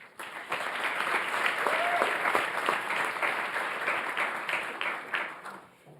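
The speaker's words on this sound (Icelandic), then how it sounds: "Gefum gott klapp." An audience applauds at a university graduation ceremony in Iceland, a dense, sustained round of clapping that swells early, holds steady for several seconds, then tapers off near the end.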